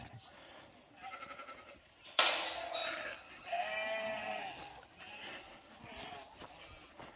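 A flock of sheep bleating on a farm, several overlapping wavering cries rising loud and close over a quieter murmur of animal noise.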